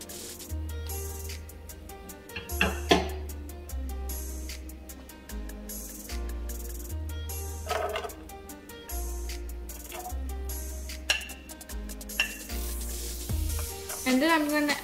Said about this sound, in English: on a medium heat, I'm gonna add 1 tablespoon of butter.